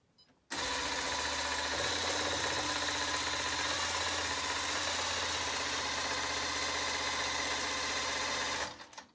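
A long arm quilting machine stitches a fabric panel, a steady, fast mechanical whir with rapid needle chatter, starting abruptly and running continuously for several seconds before stopping, with no talking.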